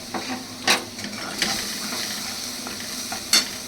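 Ginger and chilli paste with a pinch of Kashmiri chilli powder fry in oil under a steady hiss. Three sharp spatula clinks against the pan stand out.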